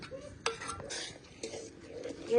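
A spoon stirs and scrapes spice paste in a pan while cooking a prawn curry with coconut milk, giving faint, intermittent clinks and scrapes over a soft background.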